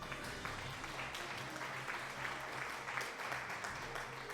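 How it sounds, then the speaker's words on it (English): Steady, faint applause played at the end of a game stream, a continuous wash of clapping with no break. "Give an applause for after every stream."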